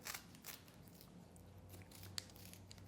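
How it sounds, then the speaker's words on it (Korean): Kitchen scissors snip through a bell pepper for salad, a steady run of soft crunchy cuts with one sharper snip near the end, close and quiet over a low background hum. "가위로 하고 그 다음에는 이렇게 먹기 좋게 이렇게 이제 듬성듬성 자르시면 됩니다"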